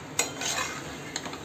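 A spoon stirs bitter gourd and onion masala with fresh coriander in a pan, giving two sharp scrapes over a soft, steady sizzle, with no talk.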